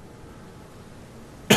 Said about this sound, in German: Husten!